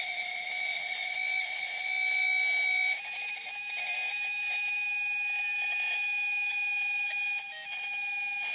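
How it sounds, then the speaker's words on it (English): A sustained high electronic tone with harmonics sounds steadily for several seconds from a Bee III detector beeping during its self-check, with no voices. "That beep was the B3 just passing the self-check."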